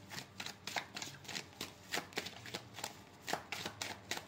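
Tarot cards are shuffled by hand at close range in a steady run of soft, papery riffles and flicks, with no voices over them.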